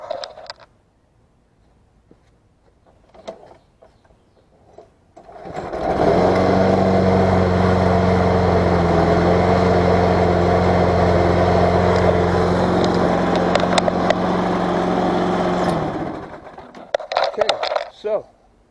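A Craftsman EZ Walk self-propelled lawn mower engine starts and runs loud and steady for about ten seconds with a constant droning hum, then cuts off, followed by some handling noises.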